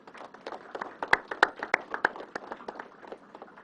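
Scattered audience applause at a government press briefing, a thin spread of individual hand claps with a few sharp, louder claps standing out, fairly sparse and moderately close.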